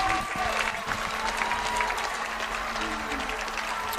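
A crowd at a high school football game, Winnacunnet at Exeter, keeps up a steady wash of applause and cheering, dense and distant-sounding throughout, with faint voices mixed in.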